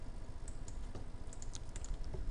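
Rapid clicks of a computer keyboard rattle continuously at close range during Photoshop editing work, with keystrokes tapping in an uneven rhythm over a low background hum and no talking.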